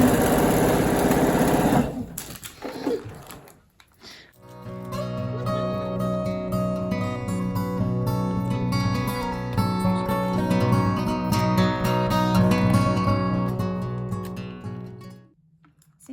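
A sewing machine stitches a quilt strip a quarter inch from the raw edge for an Iowa Star block, a steady whirring run after a brief start, loud and close before it stops.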